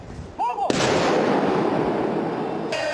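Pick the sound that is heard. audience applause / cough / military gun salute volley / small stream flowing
military gun salute volley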